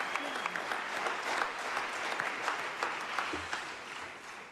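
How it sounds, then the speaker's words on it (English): A crowd at Washington Square in Salt Lake City cheers and applauds in a steady, wide wash of clapping and shouts, with faint talk and whistles mixed in. "A great cheer went up here at Washington Square when that came over the video monitor"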